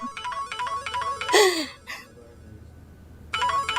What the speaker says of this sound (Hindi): ये किसका फोन आ रहा है?